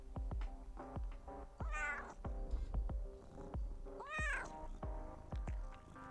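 A cat meows repeatedly nearby in drawn-out, rising and falling calls, with a softer purring rumble underneath between the meows.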